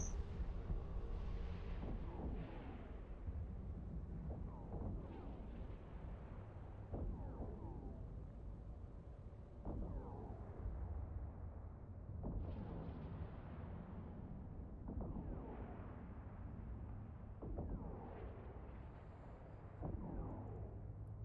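Heavy rumbling booms and swelling blasts from ship weapons firing on an enemy in the space game EVE Online, a T1 Punisher, repeating every couple of seconds over a constant low drone, loud and dense with no pauses.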